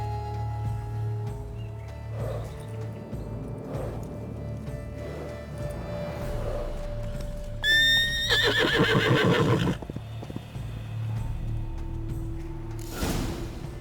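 Unicorn in Witcher 3: Blood and Wine, a loud shrill whinny rising and falling over about two seconds amid soft hoof clops and a low background hum, followed by a brief snort.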